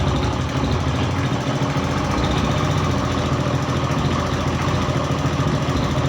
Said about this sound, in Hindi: जैसे मैं इसका एक्सीलेटर लेता हूँ